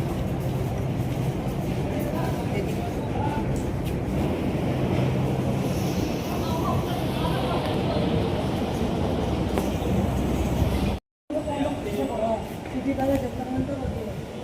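Jaipur metro train in motion, a steady loud rumble and rush of the carriage running on continuously, broken by a brief dropout near the end, with faint voices mixed in.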